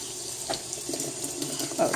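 Fresh water runs from a kitchen sink tap in a steady, soft splashing stream with small bursts, close by.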